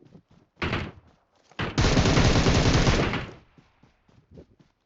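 Automatic weapon fire in a mobile shooter game, a short burst followed by a longer sustained volley of rapid shots lasting about a second and a half, fairly close, with quiet gaps around them.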